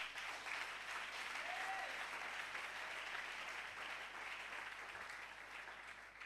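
A church congregation applauding to acclaim Jesus, a steady and fairly faint wash of many hands clapping that holds evenly throughout, with no voices rising above it.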